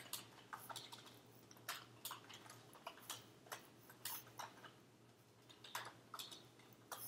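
Typing Java code on a computer keyboard: quiet, irregular clicking keystrokes in short clusters over a low steady hum, with no voice.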